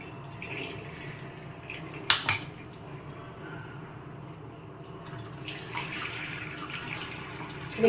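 Whey water drains from strained milk through a white cloth into a vessel below, a steady soft trickle with a sharp clink of kitchenware partway through and light clatter later.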